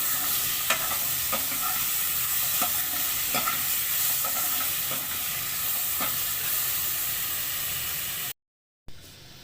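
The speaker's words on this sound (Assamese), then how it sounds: "এতিয়া ইয়াত আলুখিনি দি দিলোঁ আলুখিনি দি ধুনীয়াকৈ লাৰি দিম" Potatoes are stirred into a fish curry frying in a pan. A steady sizzle runs throughout, broken by regular scraping strokes of the spoon, and the sound cuts off abruptly near the end.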